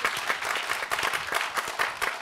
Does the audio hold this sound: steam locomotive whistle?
no